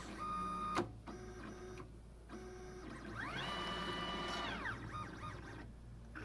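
A vinyl cutter plotter boots up, giving a series of electronic beeps followed by a rising and falling motor whine as the carriage sweeps, then a few wavering tones, all at moderate, steady volume.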